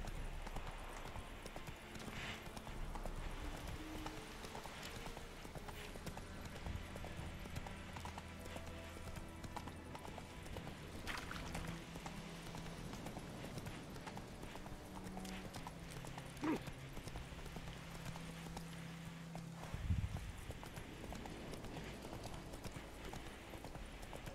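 Roach, Geralt's horse in The Witcher 3, galloping with rapid, rhythmic hoofbeats clopping steadily throughout, under game music and ambience, with a brief whinny-like flourish near the end.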